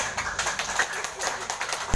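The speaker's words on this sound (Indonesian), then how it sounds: "Aplaus buat perangkatku. Tepuk tangan." Scattered clapping from a group, with a voice talking over it.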